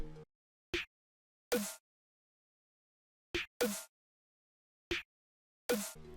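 Sharp layered clap and snare drum samples for a hyperpop-glitchcore beat, played alone in a sparse pattern of pairs with silence between them, crisp and close.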